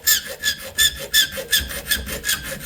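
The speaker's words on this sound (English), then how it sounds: "The reason I'm using a coarse file is so the aluminum don't get all stuck up into it." A coarse file rasps across aluminum in steady back-and-forth strokes, about eight close, loud scrapes in an even rhythm with no voices.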